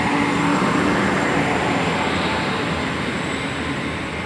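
A Class 800 train at Swindon station gives a loud, steady broadband rush and hum as it moves past nearby, with a faint high electric whine running through.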